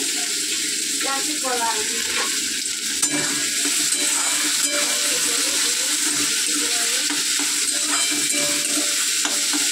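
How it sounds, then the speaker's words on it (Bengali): Food frying in hot oil in a home kitchen, a loud steady sizzle and crackle running throughout with faint scraping stirs and a brief voice-like sound partway through. "তেল গরম হয়ে গেছে, এগুলোকে ভাজবো"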